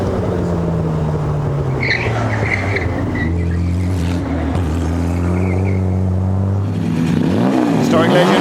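A Jaguar C-Type racing car at a hillclimb, loud and close, engine droning at steady pitch, then revs rising and falling in quick shifts near the end; no voices.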